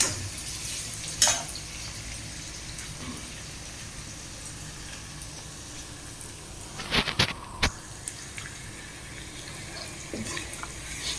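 Onions fry for a Tamil fish curry, giving a soft, steady sizzle throughout, with a few louder clatters of stirring or utensil knocks in the middle and no clear speech.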